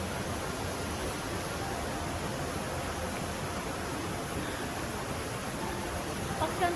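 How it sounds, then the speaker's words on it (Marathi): Water rushing at Lakkom Waterfall in Munnar, a steady broadband roar amid dense forest, continuous and even throughout without speech. "पाण्याचा आवाज येतोय"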